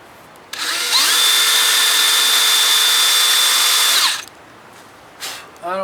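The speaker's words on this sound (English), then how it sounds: "get some drill bits and" A power drill fitted with a drill bit runs at a steady high whine for about three and a half seconds while working on a Johnson 70 hp outboard during a tilt and trim pump replacement. It is close and loud, then stops abruptly, followed by a few faint clunks.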